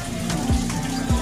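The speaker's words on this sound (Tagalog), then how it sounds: "Mapasok po yung tubig dito." Water flows into a chamber of a homemade pond filtration system that uses netting as mechanical media, a continuous close splashing trickle with small gurgles, with no voices.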